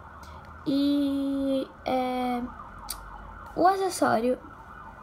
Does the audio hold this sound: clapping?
no